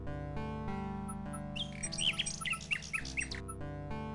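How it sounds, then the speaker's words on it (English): A nightingale in the King's Quest VI game chirps and warbles in a quick burst of bright trills over a steady synthesized music bed, lasting a couple of seconds. "Although the nightingale seems interested in Alexander"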